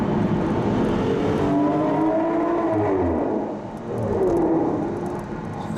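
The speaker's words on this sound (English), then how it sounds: "and you get to hear those revs." An Aston Martin DBS engine revs loudly and close as the car comes down through the revs, a continuous rumbling roar that rises and dips in pitch with no talk over it.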